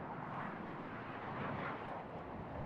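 Airplane engine in the video game Warlords Redux: a steady, faint, broadband drone that holds evenly throughout with no talking over it.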